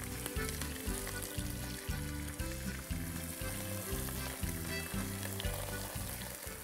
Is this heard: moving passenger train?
no